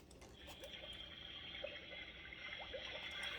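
Water sound from a children's Usborne push-button sound book, a steady watery wash with small bubbling drips running through the whole stretch, rather faint and alone without speech.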